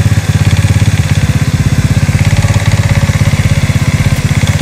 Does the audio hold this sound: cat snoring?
no